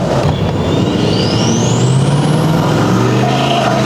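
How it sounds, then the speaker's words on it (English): A 6.7L Powerstroke diesel truck accelerates hard at half throttle and spins its tires, a loud continuous engine roar with rising pitch close to the listener and no speech. "Half throttle, we spun the tires."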